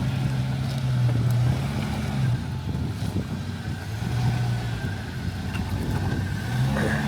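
A green Jeep XJ engine revs hard while crawling an off-road canyon trail, a steady loud low drone that swells and eases in repeated pulses with no talk over it.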